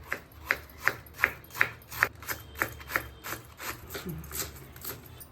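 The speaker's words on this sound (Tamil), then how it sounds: "கோஸும் நல்லா பொடியாக கட் பண்ணிக்கணும்." A knife finely chopping cabbage on a board for paneer fried rice, a steady run of about ten crisp evenly spaced cuts that soften into lighter scraping toward the end.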